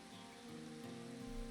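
Steady rain at night in the video game Red Dead Redemption 2, a soft continuous patter on surfaces, faint and unbroken for a short moment with no voices.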